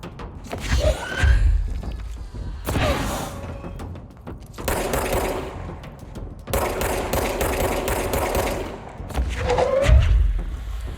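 Rapid automatic machine gun fire in the video game Control, loud, dense bursts with thuds running through most of the clip, no talking.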